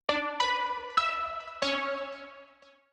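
Alchemy synth default patch in Logic Pro, built from sawtooth, square, sine and triangle oscillators layered together: four bright, buzzy sustained notes struck in turn, the last fading out, with no voices.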